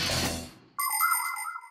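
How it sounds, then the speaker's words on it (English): In an animated children's show, a doorbell chime inside a house rings out in clear, bright tones that sustain and ring on after a burst of noise fades. "The sound comes from a box inside the house called a chime."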